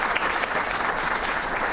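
Warm applause for an award winner at an entrepreneurship prize ceremony, a dense, steady clapping crowd, fairly loud and uninterrupted with no talk over it.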